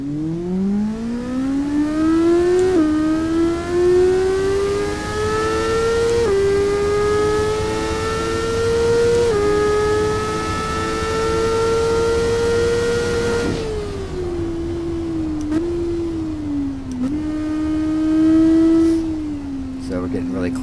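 Steady engine drone of a car in the Assetto Corsa racing game, pitch climbing through the gears with brief shift dips, then easing off for a chicane before building again, continuous and loud throughout.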